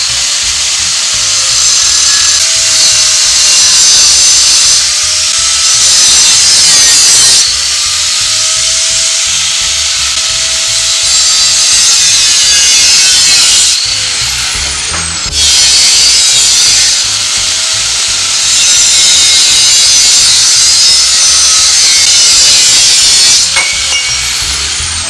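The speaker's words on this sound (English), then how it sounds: "We got to cut the hose." Rubber fuel filler hose on a Lincoln being cut through, a steady loud rasping, sawing-like tool sound running continuously for about twenty-five seconds with brief dips in between, no talking.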